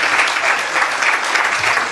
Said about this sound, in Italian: continuate un attimo l'applauso